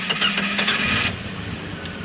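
A GM car engine cranks with a quick run of starter pulses, then catches and settles into a steady running note, heard up close in a garage-like space with no talk.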